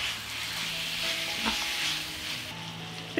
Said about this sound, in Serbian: I sve ćemo ovo pržiti još 10 minuta.